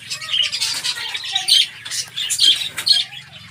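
Pet finches squawk and chirp repeatedly while feeding on soft food, with busy, overlapping short calls close by and a low background rumble.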